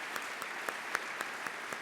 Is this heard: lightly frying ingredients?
no